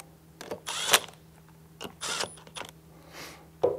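A half inch socket turns puller bolts on the final drive of a Tilmor 520 tractor. It gives a few short mechanical ratcheting whirs separated by pauses, close and moderately loud, with small metallic clicks between them.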